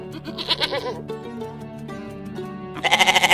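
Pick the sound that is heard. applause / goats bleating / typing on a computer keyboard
goats bleating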